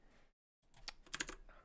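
Computer keyboard typing during a live coding stream, a quick cluster of soft key clicks after a short silence, faint and close, with no one talking.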